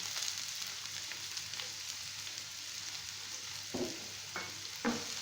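Garlic cloves and onion fry in oil in a pan for pizza sauce, giving a constant close hiss with a few scraping stir strokes near the end, alone without talk.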